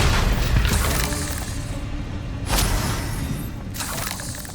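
Confringo blasting spell explosions in the Hogwarts Legacy video game, with several broadband bursts and crashes at roughly one-second intervals over loud, continuous game noise.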